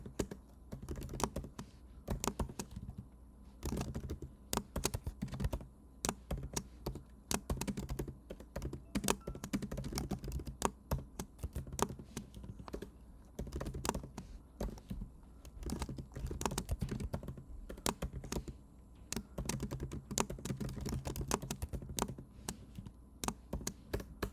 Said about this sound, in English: Have to type it again.